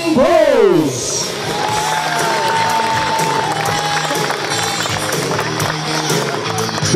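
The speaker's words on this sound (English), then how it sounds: "Big round of applause for all the miners" A crowd at a baseball opening day applauds and cheers for the teams, with a sliding whistle at the start, then sustained clapping and whoops that continue under a voice.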